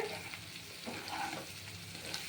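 Ground cumin, salt and turmeric briefly frying in a pan, a faint, soft continuous sizzle with light stirring scrapes, close by and without talk.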